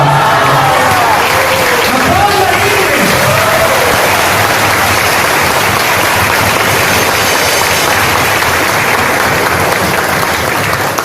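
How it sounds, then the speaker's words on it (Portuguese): A church congregation at a religious retreat claps loudly and steadily after a healing testimony, dense continuous applause mixed with cheers and shouts, sustained at full volume throughout. "Pode aplaudir."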